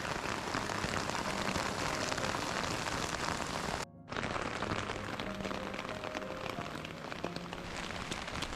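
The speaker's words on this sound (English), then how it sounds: "it's raining too much" Heavy rain pours steadily at an ancient temple site, a dense, loud broadband hiss of drops on surfaces that runs throughout, broken only by a brief dip near the middle.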